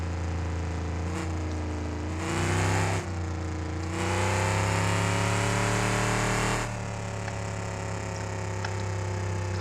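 A Lincoln car's engine in the BeamNG driving game hums steadily and rises twice in longer revving bursts before settling back to a steady drone, close and alone without talk.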